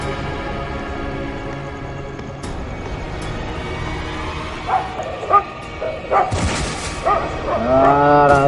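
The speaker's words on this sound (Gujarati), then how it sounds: "આ તો બે કૂતરા ભસે કો" Two dogs bark in a rural Gujarati village. A low rumble gives way to a burst of loud, close barks and yips in the second half, building to a sustained volley at the end.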